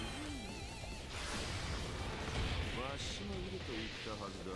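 Heavy cannon shots boom out in the video game One Piece Pirate Warriors 3, two broad blasts rolling through a busy mix of game sounds and a voice talking over them.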